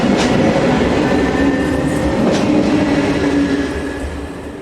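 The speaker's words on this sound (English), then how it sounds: "Passenger train activity is mainly comprised of 3-car electric units such as this, which arrive and depart with surprising regularity" A 3-car electric passenger train unit rumbles steadily past at a station, with a clattering wheel noise and faint whine that ease slightly as it moves away.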